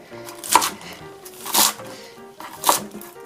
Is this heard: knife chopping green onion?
yes